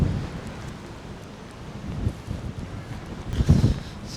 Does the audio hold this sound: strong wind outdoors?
yes